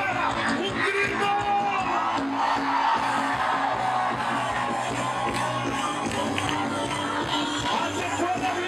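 A church congregation at a revival service in Haina shouts together in a dense, continuous roar of many voices, steady and moderately loud throughout.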